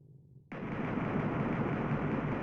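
Heavy, continuous automatic gunfire erupts abruptly from near silence in the PS1 game Space Hulk: Vengeance of the Blood Angels, a dense, steady roar of rapid shots that holds at full loudness to the end.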